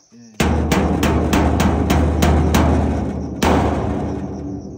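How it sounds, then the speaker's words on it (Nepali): A dhyangro, a Nepali frame drum, is struck in a quick run of heavy booming beats, then a final strong hit, loud and close, with its ringing decay. "यो ढ्याङ्ग्रो बजाउनु पनि पाइयो"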